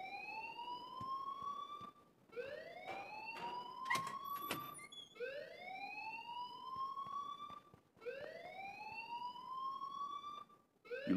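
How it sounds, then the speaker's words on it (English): Alarm in the video game Life is Strange, a rising whooping siren tone repeating in long sweeps about every three seconds, fairly faint, with no talking. "please turn off that alarm since that's your job."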